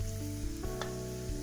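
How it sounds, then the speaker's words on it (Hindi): Close, steady sizzling of ginger-garlic paste tempering in hot oil for dal, crackling and spitting, with a few sharper pops breaking through the continuous hiss. "तड़का,"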